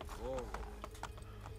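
Horse hooves clip-clopping on city ground in Assassin's Creed Brotherhood, a steady trotting rhythm under game ambience with a short horse whinny near the start and someone talking over it.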